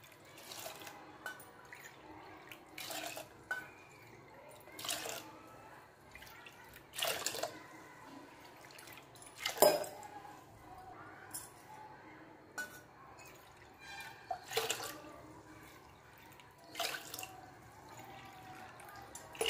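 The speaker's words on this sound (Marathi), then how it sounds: "दोन वाट्या गहू आहेत ना मग 8 वाट्या पाणी टाकायचंय" Water from a measuring cup is poured into two cups of wheat grain in a cooking pot, eight cups in all. It comes as scattered splashing and dripping bursts separated by quiet gaps, fairly soft and close.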